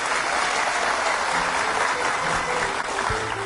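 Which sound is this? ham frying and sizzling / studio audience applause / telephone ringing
studio audience applause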